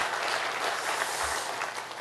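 Church congregation applauding during a worship service, a steady dense wash of clapping from many hands that fills the whole stretch at a moderate level.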